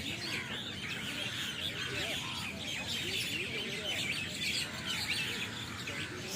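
A dense flock of birds settling for the night in a huge tree, a continuous din of overlapping chirps and calls, loud and steady throughout with crow-like caws mixed in.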